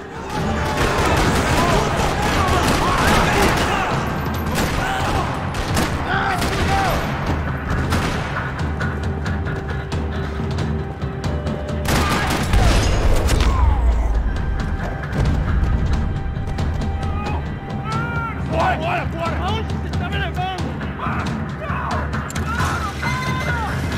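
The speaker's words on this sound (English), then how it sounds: "Another parking lot rattling with gunfire." Video-game gunfire rattles through a parking lot in Max Payne 3, with dense bursts of shots, booms and crashing impacts, loud and continuous over about twenty seconds, with occasional sharper volleys.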